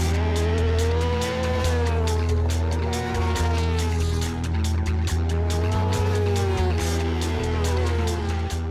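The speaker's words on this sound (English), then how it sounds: "The riders hit the track for the second practice." BMW superbikes lapping a race track during a practice session, a continuous loud engine roar with rising and falling revs throughout.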